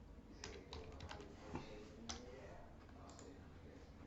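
Keys tapped on a computer keyboard in short, irregular bursts of clicks, fairly faint against a low background hum, with no one speaking.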